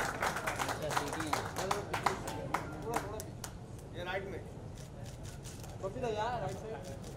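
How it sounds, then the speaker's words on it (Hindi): Audience applause and whistling at a film trailer and music launch event for the Bollywood film Black Market, with a crowd clapping under a continuous mix of voices and chatter. "जोरदार तालियां"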